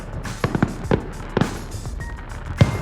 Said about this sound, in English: I'm trying to enjoy the fucking fireworks